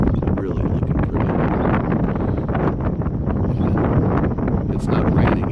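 Strong gusting wind buffets the microphone at a lighthouse on the shore, a constant loud roar with broadband rumble and rustle filling the whole clip, no voices.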